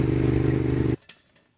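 A motorcycle with a loose, unevenly stretched chain runs with a pulsing, rough engine note that cuts off abruptly, followed by a few faint clatters.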